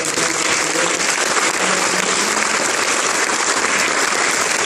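Applause from a meeting audience, a dense, steady roar of many hands clapping at full volume throughout with no voices rising above it.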